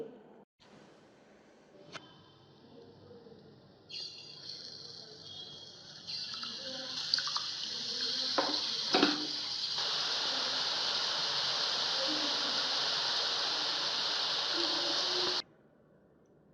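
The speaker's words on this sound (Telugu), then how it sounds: "దగ్గరుండి బూందీ వేయించుకుంటూ ఉండాలండి లేకపోతే మాడిపోతాయి" Boondi (gram-flour batter droplets) frying in hot oil for an Andhra temple sweet, with a few light clinks, then a steady broad hiss of sizzling that builds and holds before cutting off abruptly.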